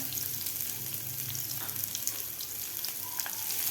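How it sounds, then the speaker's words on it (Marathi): Thickly sliced onions fry in a little oil in a pan, giving a steady, close, even sizzle with faint stirring and a low background hum. "कांदा आपल्याला व्यवस्थित भाजून घ्यायचा आहे"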